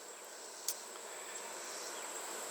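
Honeybees in a crowded hive hum as a steady, even drone, joined by a bright, sustained high insect tone and a brief sharp tick early on, with no talk.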